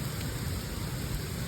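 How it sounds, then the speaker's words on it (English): Steady rain falls in a soft, even patter, a faint continuous hiss of drops with no pauses and no voices. "Effervescent rain now. What a trip."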